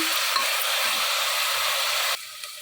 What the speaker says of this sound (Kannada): ಮೆಂತ್ಯ ಸೊಪ್ಪು ಈ ಎಣ್ಣೆಲೇ ಚೆನ್ನಾಗಿ ಫ್ರೈ ಆಗಲಿ